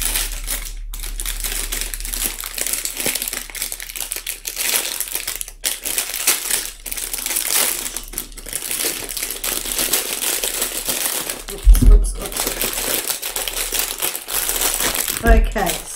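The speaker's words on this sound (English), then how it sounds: "Excuse the crinkling." Plastic packaging is handled close up and crinkles and crackles almost nonstop, with sharper crunches now and then and a person speaking over the noise.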